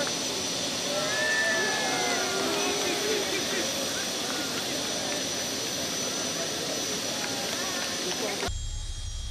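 Passenger jet aircraft PX 5120 taxiing on airport tarmac, a steady loud engine roar and whine holding throughout with a voice speaking over it, cutting off abruptly near the end.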